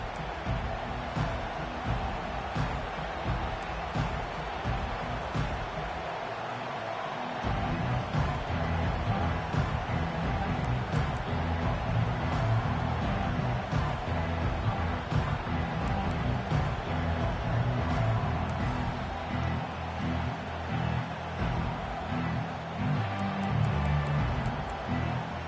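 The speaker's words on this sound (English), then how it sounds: "This crowd trying to make life miserable for this offense." Dense, steady roar of a football stadium crowd during an Auburn vs North Carolina game, a continuous broadband wash that swells louder after the first several seconds and holds at a high level throughout.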